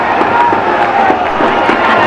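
Cricket stadium crowd cheering for Sri Lanka during an India vs Sri Lanka one-day international, a loud, dense, sustained roar of many voices with whoops spread across the stands.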